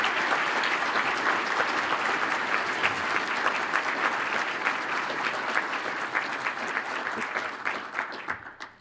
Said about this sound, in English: Let's give a round of applause again for our mayor and for the entire city team.